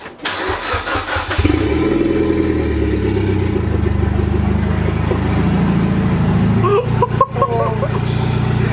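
A Mitsubishi Lancer Evo X with an HKS Hi Power aftermarket exhaust cranks and catches, then settles into a loud, deep, rumbling idle with a brief throaty rev near the end.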